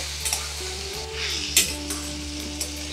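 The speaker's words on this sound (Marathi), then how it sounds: "हे छान आता परतून घ्यायचं एकसारखं" Tomatoes and onions sauté in a pan with a steady sizzle, under a few scattered clinks and scrapes of the spatula. A low hum runs throughout, and nobody speaks.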